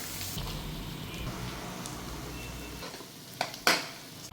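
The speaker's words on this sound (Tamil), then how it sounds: "பேனில் ஆயில் ஊற்றிருக்கோம். ஆயில் ஹீட் ஆனவுடனே பொடியாக நறுக்கி வச்சுக்கிற சின்ன வெங்காயத்தை நம்ம போட போகிறோம்." Steady sizzling of chopped shallots frying in hot oil in a pan fills the clip, with a couple of sharp clinks of a utensil near the end.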